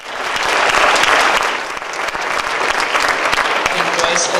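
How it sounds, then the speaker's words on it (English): A crowd at an anti-police-violence rally breaks into dense, loud applause that keeps going for several seconds, with scattered voices mixed in. "Give the Lord a hand clap for yourself."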